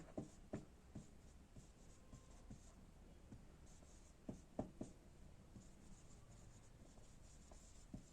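Marker strokes on a board while notes on hydropic change are written up for a pathology lesson on necrosis, soft scratchy squeaks in short bursts with a few sharper taps, fairly quiet and close, no talking.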